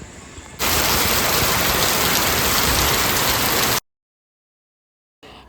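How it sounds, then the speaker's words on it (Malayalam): Heavy rain pours down steadily and loudly for about three seconds as a dense hiss, then cuts off into silence before faintly resuming at the end. "നല്ല മഴ വരുന്നുണ്ട്"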